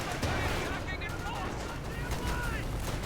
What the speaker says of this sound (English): giving reason for MG34 to roll